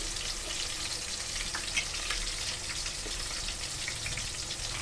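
Prawn fry sizzles in a pan of masala on a low flame, giving a steady, close crackling hiss with small pops throughout and no talking.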